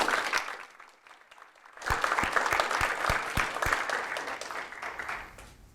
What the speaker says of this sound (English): Please join me in giving our three guests a big round of applause